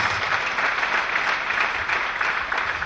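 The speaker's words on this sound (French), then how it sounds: "Clap for Jesus Christ" A church congregation breaks into sustained applause for Jesus Christ, a thick even wash of many clapping hands with a faint crowd murmur, loud and unbroken.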